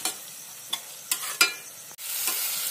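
Tomatoes cook down in a pan for chicken masala curry gravy, with a low sizzle broken by three or four spoon scrapes before a sudden louder, brighter hiss swells up.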